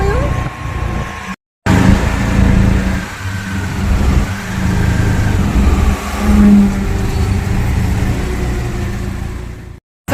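An auto rickshaw's engine rumbles and revs while riding through congested traffic past road works, steady and close with brief surges, as people talk over it.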